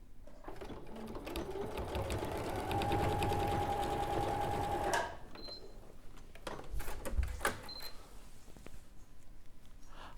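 A sewing machine runs across the toe of a piece, a steady close whirring hum for about five seconds, followed by a quieter stretch of handling clicks, thumps and a couple of short electronic beeps.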